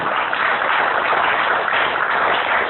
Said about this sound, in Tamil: கைதிட்டுகளை பார்ப்போம்.